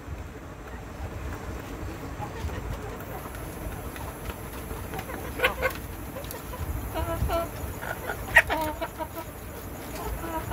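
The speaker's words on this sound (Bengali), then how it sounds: "যেখানে 4টা মুরগি আছে দেখেন আপনারা" Black Australorp hens cluck softly in a farm shed, scattered faint calls rising over a steady low background hum, with a few sharper clucks toward the end.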